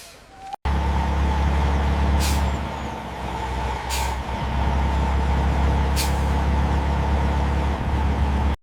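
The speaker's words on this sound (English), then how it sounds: "Engines roar." Truck engines idle and rumble loudly at a 1950s factory loading area, a steady low drone with three short bursts of air-brake hiss spaced a couple of seconds apart.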